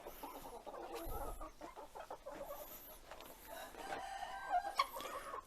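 Hens on a free-range Turkish egg farm cluck and call in a busy, overlapping chorus near the nesting boxes, with a rooster crowing faintly in the background; no one speaks.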